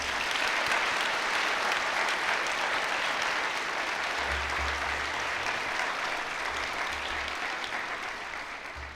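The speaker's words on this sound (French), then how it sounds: "Applaudissons nos invités d'honneur." Audience at a university graduation ceremony applauding guests of honour, with sustained dense clapping across a hall that stays steady and slowly fades toward the end.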